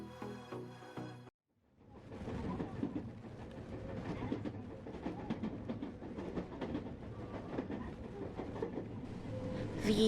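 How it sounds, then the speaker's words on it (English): Shinkansen bullet train travelling between Kyoto and Osaka, heard after a brief cut as a steady rumbling ride with a continuous clattering rush that builds slightly toward the end, moderately loud. "The high-speed Shinkansen service, also known as the bullet train, will get you from Kyoto station to Osaka station in 12 minutes"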